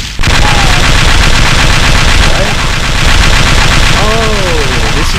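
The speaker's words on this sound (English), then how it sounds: "this is just a normal... badass machine gun" A video game machine gun fires continuously, a loud, saturated, unbroken roar of rapid shots with faint whistling tones rising and falling through it.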